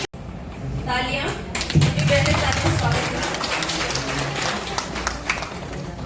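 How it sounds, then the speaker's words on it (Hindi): Dense applause and scattered claps from a gathered audience at a training-completion ceremony in the hills, steady for several seconds with a host's voice speaking over it at the start. "तालियां प्लीज"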